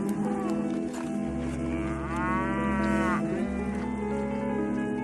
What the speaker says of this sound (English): Today we have 60 million cattle that are populating feedlots.